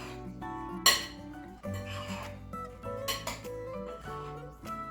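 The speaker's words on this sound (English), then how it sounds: "stir up here so that it coats every piece of the chicken" Chicken pieces being stirred and coated in a bowl before flouring, with metal utensils clinking and scraping against dishes in irregular, fairly close knocks and clanks.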